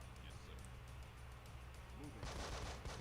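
Gunfire from the tactical video game Breach & Clear, soft and distant-sounding for most of the stretch, then a louder burst of broadband shots near the end, with some faint voice-like sounds mixed in.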